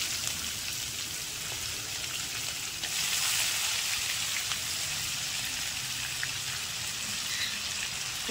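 Onions frying in a pan with bay leaf and whole spices, a continuous, close, hissing sizzle holding steady and growing slightly louder partway through.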